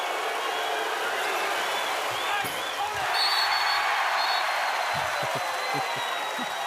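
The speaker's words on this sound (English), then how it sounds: "the crowd are now loving it" A basketball arena crowd at an NBL game between the Tasmania JackJumpers and New Zealand Breakers roars steadily during a free-throw attempt, a dense, sustained wash of cheering with a few sharp thuds and commentary talking over it.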